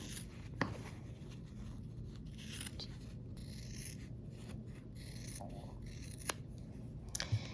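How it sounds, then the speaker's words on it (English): Quiet snipping of scissors through fabric, a few scattered cuts with soft rustling and handling noise, close by and without speech. "I'm just gonna take my scissors for these other corners here."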